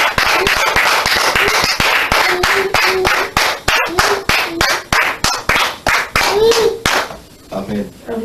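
A church congregation claps steadily in rhythm while acclaiming the Lord, loud and close, with voices singing and calling out over the clapping throughout.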